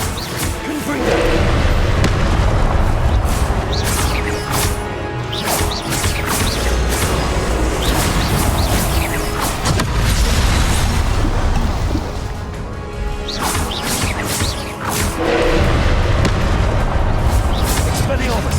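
Repeated Confringo blast curse explosions in a Harry Potter Legacy video game, a dense run of booming bursts and crashes layered over continuous combat sound and voiced spell calls, loud and close throughout.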